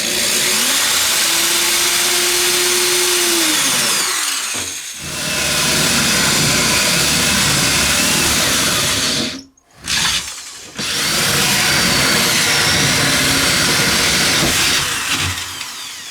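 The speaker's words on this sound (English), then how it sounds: "we'll take our drill and just blow through the top here" A power drill whines loudly and steadily as it bores through the top of a beverage tub sink, pausing briefly twice before grinding on, close and without talk.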